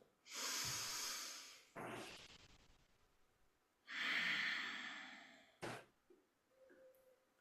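Slow deep breaths, each long inhale and exhale drawn through the nose and mouth, audible and close, repeating in a steady calm rhythm with quiet pauses between and no talking.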